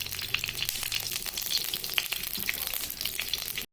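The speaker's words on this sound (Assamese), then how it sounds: "এতিয়া এখন কেৰাহী গেছত পাতিছোঁ আৰু গৰম হওঁতে ইয়াতে 1 চামুচ ঘি দি" Ghee heats and sizzles in a kadai on a low gas flame, a steady close crackling hiss with small pops running right through.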